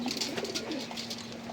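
Pigeons coo softly and repeatedly over a steady low hum while being fed and checked for health in their coop, with no talk over them.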